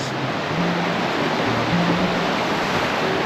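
The river in Johnston Canyon rushes steadily, a loud, continuous broadband roar of flowing water close by.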